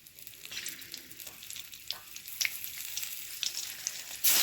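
A green chilli dropped into hot oil left from frying fish, giving a soft, crackling sizzle that builds gradually and ends in a louder burst of spitting at the close.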